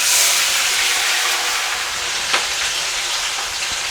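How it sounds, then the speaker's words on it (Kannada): Green chillies fry in hot oil in a pan for egg bhurji, giving a steady, close sizzle and hiss with a brief crackling spike partway through and no talk. "ನಾನು ಇವಾಗ ಮೆಣಸಿನ್ಕಾಯಿ ಹಾಕ್ತಾ ಇದ್ದೀನಿ."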